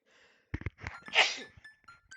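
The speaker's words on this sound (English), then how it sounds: "excuse me, I had to sneeze" A single sharp sneeze, with a quick breathy intake just before the burst; nearby and fairly quiet overall.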